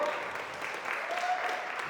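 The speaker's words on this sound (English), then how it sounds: "so we get a lot of applause for them." A crowd at a live podcast show applauds in a steady wash of clapping at moderate volume. Faint voices can be heard under it.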